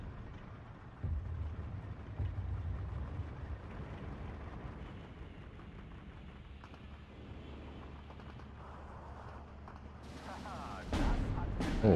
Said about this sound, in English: Just hear those MG42s going to work.